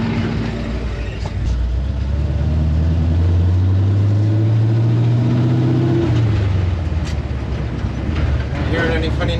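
A 1964 Ford F100 pickup freshly fitted with new U-joints drives along, its engine droning loud and close with a pitch that rises as it accelerates, over steady road and cab rumble.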